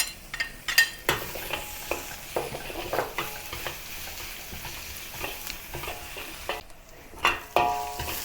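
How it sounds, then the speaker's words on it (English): Onion stir-fried with chopped garlic and ginger in a wok for black pepper chicken, a constant sizzle broken by sharp scraping stirs and spatula clacks against the pan, close up with no talking. "And stir fry until the onion turns soft."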